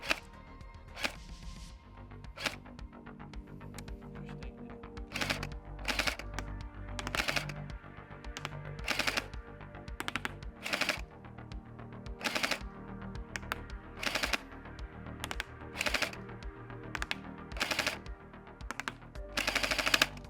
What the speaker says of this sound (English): I'm basically like kind of trying to slash the target basically with the stream of BBs